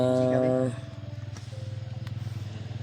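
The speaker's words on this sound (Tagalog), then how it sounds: "Yung narinig natin mga motor na ingay." A motorcycle engine idles close by with a steady pulsing throb. Voices talk over it briefly at the start.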